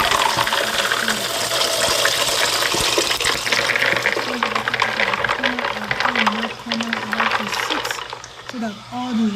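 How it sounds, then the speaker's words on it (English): Water from soaked peanuts drains and trickles steadily out through a strainer, a close, continuous splashing wash with a faint hum beneath it, fading slightly toward the end. "so that all the water will strain out."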